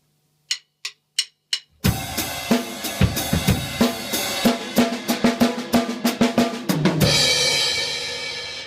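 Four sharp count-in clicks, then a full drum kit plays a busy rhythm with cymbals and snare hits before a fill built on two on-beats and an off-beat, ending on a crash, loud and close.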